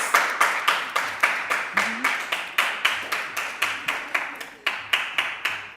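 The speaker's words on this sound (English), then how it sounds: "give her a round of applause" An audience claims a winner at a live talk show with steady, rhythmic clapping. The applause is close and sustained and runs without pause.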